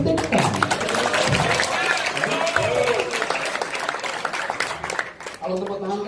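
A crowd claps in sustained applause while voices talk over it.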